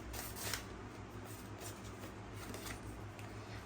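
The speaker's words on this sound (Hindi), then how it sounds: "आइए और शफल करते हैं।" Tarot cards are shuffled by hand in soft, close riffling and sliding bursts that repeat irregularly at a quiet level.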